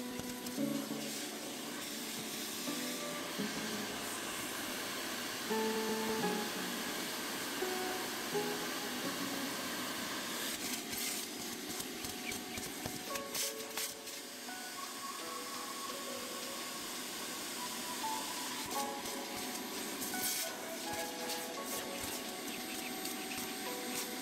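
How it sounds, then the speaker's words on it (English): A vacuum cleaner drones steadily while it cleans the seats of a pet-hair-covered Jeep interior, a continuous close whooshing hiss with slight shifts as the nozzle moves, and no one talks. "Once all the carpeted areas were cleaned, we decided to begin vacuuming the seats."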